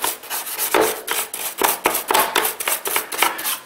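A PC keyboard is scrubbed hard with a brush or cloth, making quick, rhythmic rasping strokes that repeat several times a second. The sound is close and continuous, with no talk.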